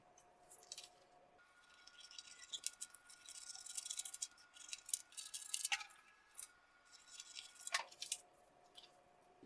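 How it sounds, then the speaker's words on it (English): Scissors snipping through a paper foundation-piecing template, a quiet run of short crisp cuts and paper rustles in bursts, close and alone with no talking. "Now I'll cut these two clusters out using this dotted gray line as my guide."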